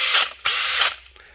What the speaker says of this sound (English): And I got my Makita drill brush.